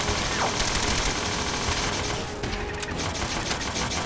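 Enemy gunfire in Fallout 4: Nuka World, a dense fusillade of rapid automatic shots and bursts crackling loudly and continuously, with metallic clatter between volleys.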